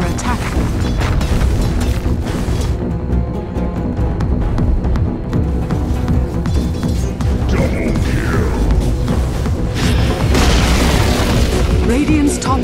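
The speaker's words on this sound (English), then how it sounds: "Radiant's top tower has fallen." A tower crumbles in the video game Dota 2 amid loud, continuous booms and crashing impacts of battle, heavy rumbling layered with sharp hits and pops, with a voice speaking over the din.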